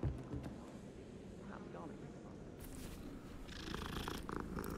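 A soft, low cat purr rumbles steadily in the video game Hogwarts Legacy, with a few faint electronic tones and game sounds layered on top.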